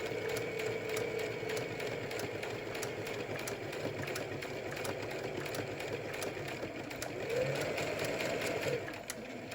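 A sewing machine stitches a face mask seam in a steady, fast, continuous rattling hum, close and even throughout with a brief change near the end.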